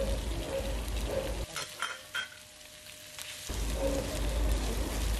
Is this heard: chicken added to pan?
yes